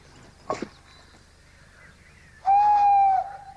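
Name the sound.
imitated owl hoot call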